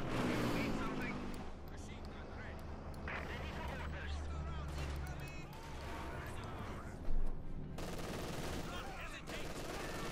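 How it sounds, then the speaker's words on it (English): Heavy machine gun fire in the real-time strategy game Company of Heroes 2 rattles in dense bursts against a mortar crew, mixed with battle noise and a loud thump near the end, under continuous commentary. "Quick few hits there with the heavy machine gun against the mortar crew out in the open."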